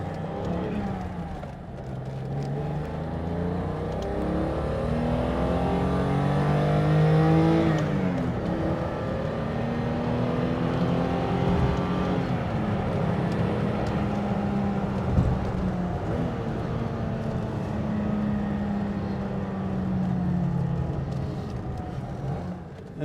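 A 1985 BMW M635 CSI accelerates up a motorway on-ramp, heard from inside the cabin as the engine climbs through the gears with rising, falling whines at each shift and a steady, loud drone between changes.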